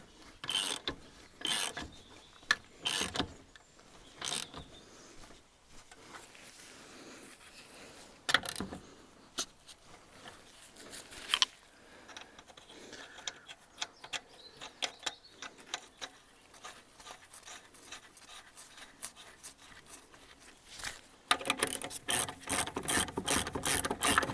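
Ratchet and socket wrench working on a car, with irregular bursts of close clicking and mechanical rattling, pauses between strokes and a faster stretch of rapid ratcheting near the end.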